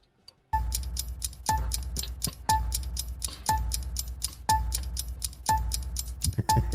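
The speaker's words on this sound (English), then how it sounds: "I will turn on a 10-second timer after asking you the questions." A game show ten-second countdown timer ticks steadily, with a loud accented tick once per second and quicker lighter ticks between, close and alone without talk.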